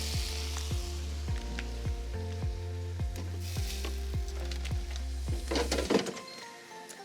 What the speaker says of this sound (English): this next one I'm gonna carry over to the air fryer and I'm gonna put it in.